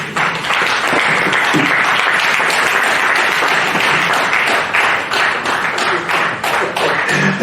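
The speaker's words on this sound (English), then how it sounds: "A round of applause." Loud, sustained applause from an audience at a risk management professionals' conference and inauguration, dense continuous clapping filling the room throughout without a break.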